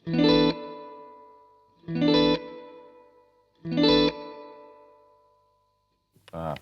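Three strummed guitar chords ring out one after another, each fading slowly through a slow modulated reverb effect. The strums are moderately loud and evenly spaced, and a short, faint sound follows at the end.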